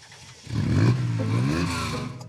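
A Ferrari Dino 246 GT engine catches and revs, a steady, fairly loud mechanical drone that swells after a quiet start and holds close by.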